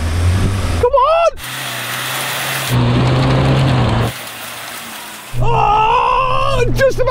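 A Ford Ranger pickup in four-wheel-drive low revs hard at full throttle with its wheels spinning in mud, a loud, sustained engine roar broken by sudden cuts and surges, and an excited voice talks over it.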